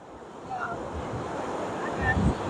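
Ocean surf rolls onto a beach where boats come in, a steady roar of waves mixed with gusty wind noise on the microphone, building slightly toward the end.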